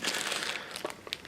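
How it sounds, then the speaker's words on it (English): Short burst of plastic crinkling up close, a dense rustle followed by a few sharper crackles, fairly quiet. "grown man defeated by a plastic bag"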